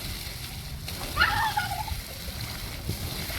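A child plays in water being sprayed, with soft splashing and a steady watery wash. A short high-pitched voice rises over it partway through.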